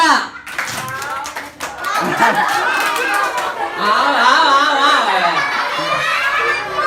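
Children in a clapping game at a Ramadan storytelling event in Bandung, giving a quick burst of sharp claps near the start, followed by chatter and giggling.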